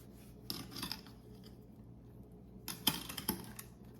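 A knife slicing into a loaf of low carb bread, quiet crisp crunching strokes in two short bursts separated by a near-silent pause.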